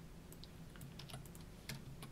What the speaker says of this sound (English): I will just need to type by keyboard those things